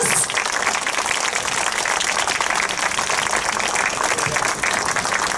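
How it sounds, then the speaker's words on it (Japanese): Applause from an outdoor street-speech audience at a Japanese Communist Party rally in Koriyama, a steady, dense wash of clapping that runs without pause across the clip, heavy and constant, with some crowd noise mixed in. "どうぞもう一度大きな拍手を送っていただきたいと思います"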